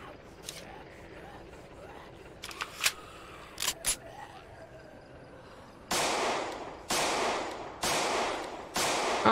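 Several gunshots from a weapon in Project Zomboid, with a few sharp cracks early on and then four heavier, louder blasts spaced about a second apart near the end.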